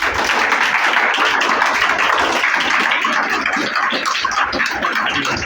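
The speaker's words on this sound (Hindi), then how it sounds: "सबसे पहले राहुल भैया के लिए आप लोग ताली बजाइए" A crowd claps together for Rahul, a student who scored 95% in class 10: dense, loud, continuous applause that stays steady for several seconds with no pauses.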